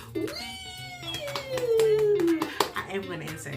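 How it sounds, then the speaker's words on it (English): An inserted applause sound effect, with sharp, scattered hand claps, plays alongside a long, drawn-out meow-like cry that slides downward in pitch, close and fairly loud. "I am going to insert applause to back me up"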